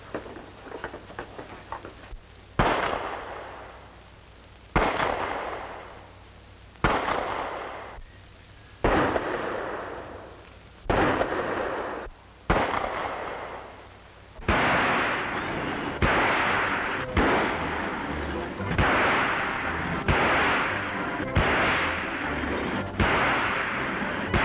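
Single gunshots ring out at a police shooting practice range, evenly spaced and loud with echoing decay, then turn into faster overlapping shots toward the end.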